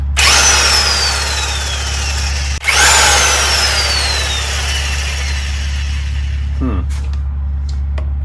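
A Harbor Freight Bauer heavy-duty 1/2-inch impact wrench runs with a loud, steady whine and hum from the start, briefly cutting out near three seconds before resuming, then continuing under a few faint clicks and thumps near the end.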